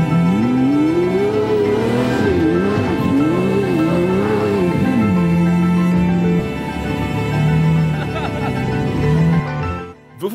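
A Lamborghini Murciélago pulls in at a house, its engine revving in rising and falling surges before settling to a steady idle, close and loud, with a brief lift in revs near the end before it cuts off.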